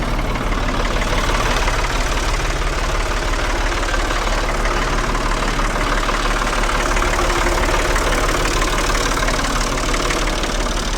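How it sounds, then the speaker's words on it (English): A tractor engine idles steadily and close by with a low, knocking diesel rumble while its hydraulics and weight are used to shift and center a load, running continuously with no talk. "Trying to use the tractor's weight and hydraulics to my advantage."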